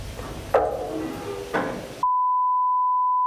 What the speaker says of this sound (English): That was a door opening.